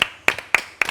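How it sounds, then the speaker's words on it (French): Clapping during a live show, four sharp, evenly spaced claps in under a second, close and distinct rather than a full crowd roar. "Merci Sandra, applaudissez."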